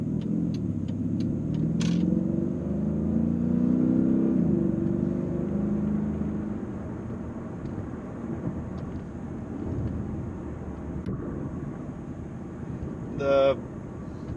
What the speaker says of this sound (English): just the engine sings smoothly